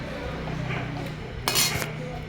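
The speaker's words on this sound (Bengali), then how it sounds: "নেড়ে চেড়ে এটাকে এবারে চাপা দিয়ে" Curry stirred in a pan and then covered, a few light metallic clinks and scrapes of a spoon followed by a brief bright clatter of the lid going on.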